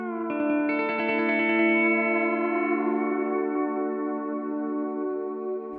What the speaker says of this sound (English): With larger grains, we might hear more blurring or repetition of transient parts in the sound.